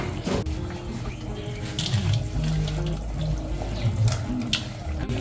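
Tap water running steadily into a sink while dried herrings and shrimps are rinsed by hand, a close continuous gush with splashing and the odd clatter, no talk.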